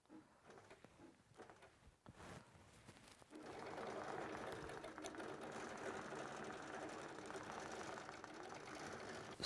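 A Grace QCT6 computerized longarm quilting machine runs an edge-to-edge stitch on a quilt. A few sparse taps come first, then a steady, loud, continuous motor whir with rapid needle patter that holds to the end, with no talking.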